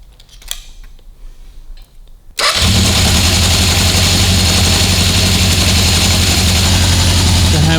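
1976 Honda CB750F1 four-cylinder motorcycle engine cranking and catching abruptly, then settling into a loud, steady, close idle that continues to the end, preceded by brief quiet handling noises.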